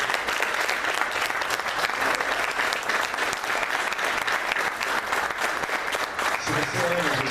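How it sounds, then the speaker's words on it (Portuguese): A church congregation applauds the name of Jesus at an evening service: dense, steady clapping from a large crowd that continues for several seconds without a break, loud and close. "Você pode aplaudir o nome de Jesus?"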